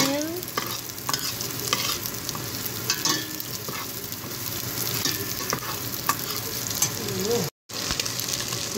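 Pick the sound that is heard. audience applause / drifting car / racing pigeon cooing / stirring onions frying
stirring onions frying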